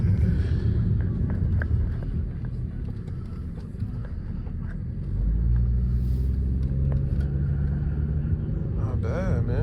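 A 2015 Chrysler 200 cruising along a road at about 40 miles an hour, heard from inside: a steady low rumble of engine and road noise that swells slightly midway, with faint background sounds.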